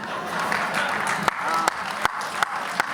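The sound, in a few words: audience applause at a comedy poetry recital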